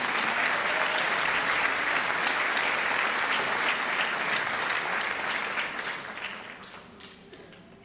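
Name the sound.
audience applause for Teacher of the Year finalists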